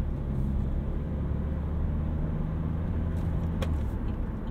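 A 2015 Chevrolet Cruze diesel car on the highway, heard as a steady low interior rumble of engine and road noise at even loudness, with a brief faint click near the end and no talk.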